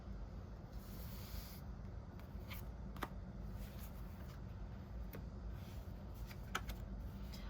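Tarot cards are shuffled quietly, giving a faint, continuous papery rustle with a few soft ticks.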